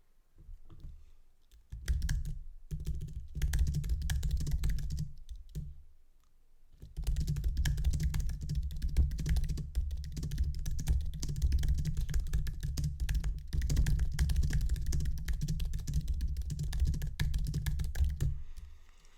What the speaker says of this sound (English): here's the language, and I'm going to type it here